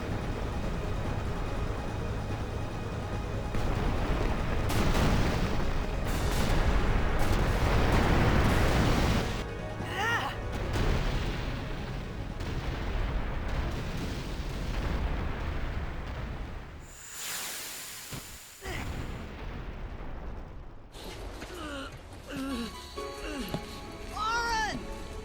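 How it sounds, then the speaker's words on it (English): Explosions rumble and burst in Final Fantasy X amid a collapsing building, with dense booming noise in the first half, then quieter crashes and a sharp bang later, while people talk over them. "That building just collapsed from one explosion."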